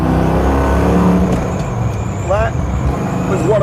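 Muscle car under hard acceleration from the driver's seat, a loud, full engine roar that builds and holds while a voice speaks over it.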